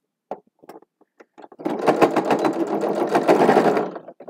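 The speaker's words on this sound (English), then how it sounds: "stitch down along the edge of this, as close to the edge as I can get" A few short taps and clicks, then a sewing machine runs in one continuous burst for about three seconds, stitching close along a fabric edge, the motor's rapid needle rhythm close and clear before it stops.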